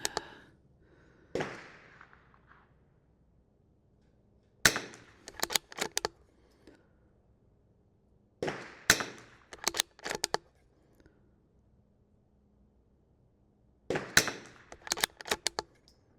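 A Bergara BMR-X .22lr rimfire rifle fires several sharp, close cracks in three separate bursts of quick shots with quiet pauses between them.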